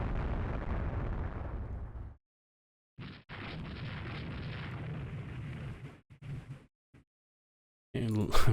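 Naval gunfire striking enemy ships in the naval strategy game Rule the Waves 3: rumbling explosive bursts in separate blocks with silent gaps between them, then a loud boom at the end.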